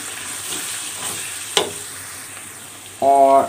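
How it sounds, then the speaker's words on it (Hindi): Onion and garlic sizzle steadily in hot oil as spices are stirred in for a tinda and chicken wings curry, with one sharp clink midway and a short tonal hum near the end. "तो अब मैं इसमें तमाम मसाला जात ऐड करूँगी और अच्छी तरह से मिक्स करेंगे"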